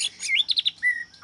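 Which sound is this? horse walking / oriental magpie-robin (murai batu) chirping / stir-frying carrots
oriental magpie-robin (murai batu) chirping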